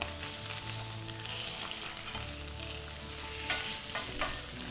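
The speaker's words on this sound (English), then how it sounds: "Next, we'll add the oil and swirl to coat well. And we'll add our tilapia fillets. We'll cook them for 1 minute" Tilapia fillets sear in hot oil in a pan with a steady, dense sizzle and crackle that continues throughout, close and loud, with no voices.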